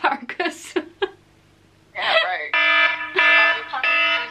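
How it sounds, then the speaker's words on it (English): A kitchen timer alarm goes off in loud, repeated tonal beeps after a brief stretch of talk and shorter sounds at the start. "That was the timer."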